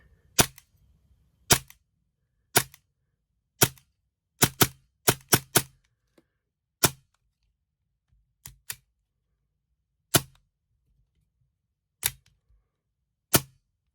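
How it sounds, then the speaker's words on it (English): Tokyo Marui V10 Ultra Compact airsoft pistol firing with blowback: about fifteen sharp, crisp cracks, close and loud, spaced irregularly with some quick doubles and triples, and silence between them. "the blowback is actually pretty intense for a pistol of this size"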